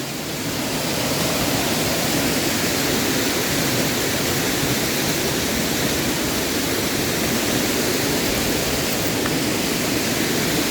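Roar of Kemmanaballi waterfall at Jalsoor, Sullia, a steady, loud broadband rush of falling water that holds constant and unbroken throughout, with no voices.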